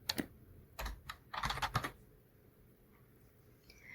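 Keystrokes on a computer keyboard while a short word is typed into a Java code editor, arriving as a few quick clustered clacks and then going quiet, close and fairly soft with no talking.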